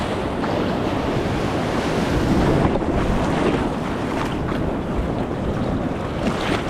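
Ocean waves break at Rabat Beach in winter, a constant loud wash of surf mixed with heavy wind buffeting the microphone, with no voices.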